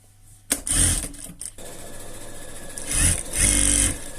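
Sewing machine stitching lace onto a piqué fabric set, loud close motor bursts of stitching separated by a pause of quieter running.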